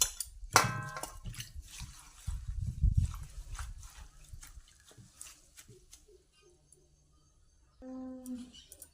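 Leafy greens being washed by hand in a vessel of water, with splashing and sloshing at the start, then softer drips and trickles that fade toward near silence, and a brief clunk near the end.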